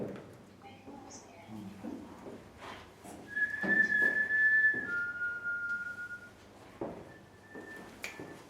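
A clear, steady whistled tone that slides between pitches inside a church, with faint murmuring voices and rustling around it.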